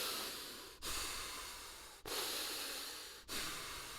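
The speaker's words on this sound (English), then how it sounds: "So I'm pulling from my belly and I'm inviting the air in and I'm pressing it back out." Slow, deep belly breathing as an exercise, with long airy inhales and exhales in a continuous cycle, close and fairly loud, with three brief pauses between breaths and no talking.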